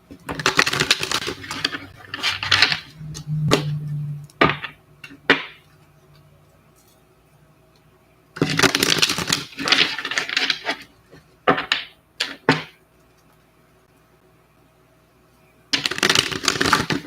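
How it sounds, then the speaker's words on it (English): A deck of tarot cards is shuffled in several bursts of crisp riffling and tapping, separated by quiet pauses. "Shuffle the deck"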